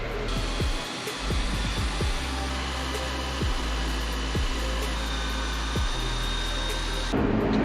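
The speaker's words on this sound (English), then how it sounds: "I'm gonna hook this up to my drill and see what it does." A power drill drives a paint sprayer attachment during a boat trailer rebuild: a loud, steady whirring motor with regular ticking pulses running throughout before it cuts off near the end.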